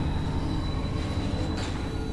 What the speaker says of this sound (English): Let's take the train.